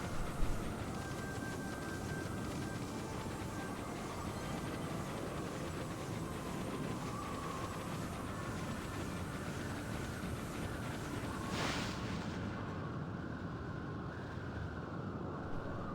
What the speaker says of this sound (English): Ooh, it sounds windy.